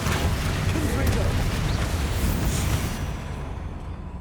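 Repeated Confringo and Bombarda spell explosions in Hogwarts Legacy during a spider fight, a continuous roaring wash of blasts and rumble that fades slightly toward the end.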